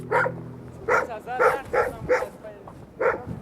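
Large dog barking repeatedly and loudly, a steady string of deep barks at close range amid an Afghan compound during a special operations search.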